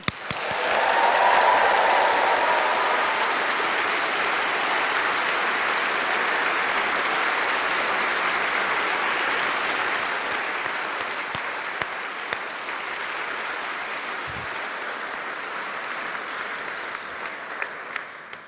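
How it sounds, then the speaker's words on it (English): A large crowd claps loudly and steadily for a long stretch at a university graduation ceremony, with some cheering early on, the applause gradually thinning toward scattered claps. "give yourselves a huge round of applause, and let's hear some cheering"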